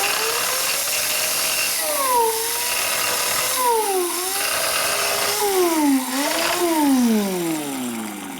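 A grinder runs with a loud, continuous whine, its pitch repeatedly dropping and rising as it bites into metal on a Harley 45 flathead crankshaft and flywheel during balancing work.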